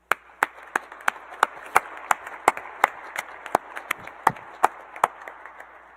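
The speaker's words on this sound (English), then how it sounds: "Please join me, graduates, with a round of applause to thank all who have supported you" Sparse, evenly spaced claps at a Class of 2021 Industrial and Systems Engineering graduation ceremony, sounding like only a few people clapping in a slow, regular rhythm that is fairly quiet and distinct.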